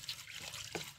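Water trickles and splashes briefly over cauliflower being rinsed for cooking, a short close liquid patter with one brighter splash near the end.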